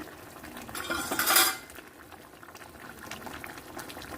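Curry with coriander and curry leaves cooking in a pot on low heat, giving a soft bubbling simmer with a brief louder clatter of pot or utensil near the start, then steady quiet cooking noise.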